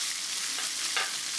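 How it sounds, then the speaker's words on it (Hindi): Sugar and citric acid water hits a hot tempering of oil and curry leaves for Surti khaman, setting off a bright, loud, continuous sizzle with a couple of sharper bursts as the liquid lands. "आखिर में डालेंगे शुगर और साइट्रिक एसिड का पानी जो हमने बचा के रखा था"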